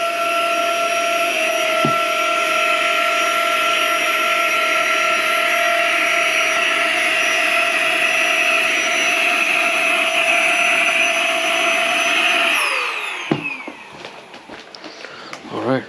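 GIGA Pump 3.0 electric air pump inflating a mattress at medium power, a loud steady high-pitched motor whine that runs evenly, then winds down sharply near the end into handling noise.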